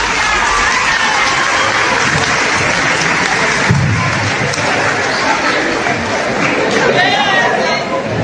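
An audience applauds a mayor in a played recording, with steady clapping mixed with crowd chatter and a few cheers. The sound stays loud and dense throughout, with voices murmuring within the applause.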